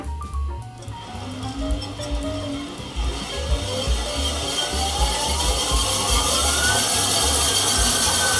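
A Creality K1 3D printer runs at maximum speed, its stepper motors giving a steady, whirring mechanical drone with shifting pitched tones, loud and continuous, with no talking.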